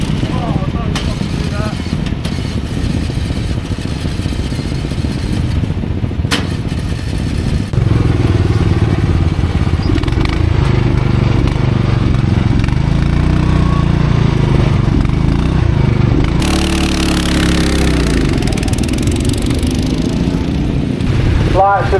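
A pack of about twenty Group 4 racing lawn mowers idling and revving at a grid together, a dense rumbling engine drone that swells louder partway through, with people talking over it.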